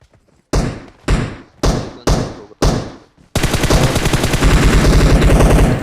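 Gunfire from a bot in a battle royale video game: five loud, evenly spaced single shots ring out alone, followed by a sustained, rapid automatic burst that continues steadily to the end.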